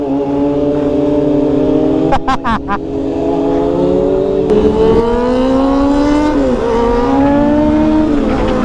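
A car engine revved hard on a street, its rising and falling roar steady throughout with a few sharp bursts partway, while people talk nearby.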